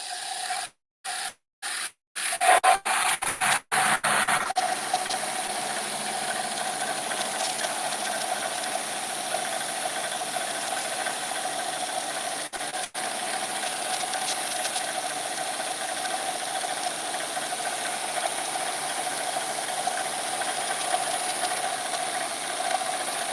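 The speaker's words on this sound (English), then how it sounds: "we're going to just shape it on the 80 grit belt" Belt grinder shaping metal on an 80 grit belt in a knife-making shop, a few clunks at the start and then a steady, even grinding whine that holds without a break.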